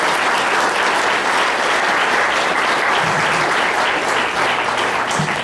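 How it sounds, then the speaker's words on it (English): Loud, sustained applause from a lecture audience for a speaker, a thick continuous wash of many hands clapping at once with no talking over it. "Let's give him a big applause."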